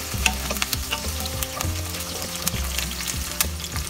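Curry leaves frying in a pan of hot oil for chicken chettinad, a steady close sizzle with frequent stirring clicks and scrapes, no voices.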